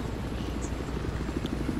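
Helicopter rotor drone from a multiplayer shooter video game, a steady low continuous whir held at an even level throughout, with the player not aboard.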